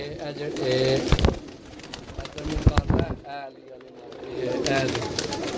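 Pigeons of many varieties coo repeatedly in soft, throaty bursts, close by, mixed with flapping, clattering knocks and people talking in the background.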